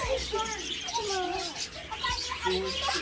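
A crowd of birds keeps up steady chirps and tweets at close range, the calls overlapping continuously as people talk over them.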